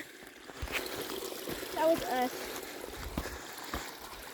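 Rain-fed stream tumbling over a small waterfall, a steady wash of running water throughout, close by, with excited voices talking and whooping over it.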